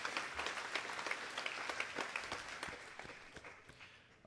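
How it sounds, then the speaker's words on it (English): Applause from the audience at a Year 12 high school graduation ceremony, a steady patter of many hands clapping at moderate distance, slowly thinning toward the end. "Please give a round of applause"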